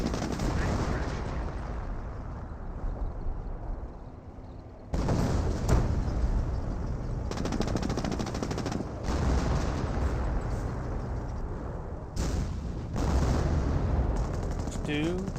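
Sustained gunfire and machine-gun bursts from a WWII battle in the strategy game Company of Heroes, dense and continuous with brief drops, mixed under a commentator's casting talk.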